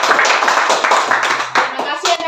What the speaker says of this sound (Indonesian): kita beri aplaus dulu buat kita semuanya